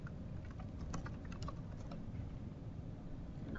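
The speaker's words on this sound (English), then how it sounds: "I'm going to type in my options over here" Soft computer keyboard typing, a quick irregular patter of faint key taps over a steady low background hum, with no voices.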